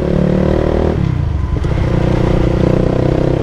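Old carbureted Honda CBR 150R sport motorcycle engine running steadily while riding, a loud continuous drone that dips briefly around the one-second mark and then holds again, with no talking.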